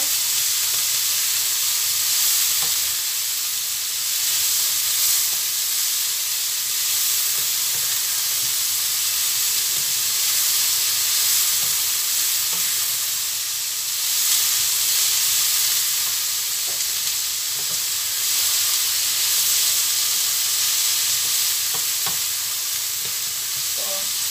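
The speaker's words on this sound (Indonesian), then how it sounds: "tumis sampai layu ya togenya" Bean sprouts are stir-fried in a pan, giving a continuous bright sizzle and steamy hiss with faint scraping of stirring throughout, fairly close and steady with no talking.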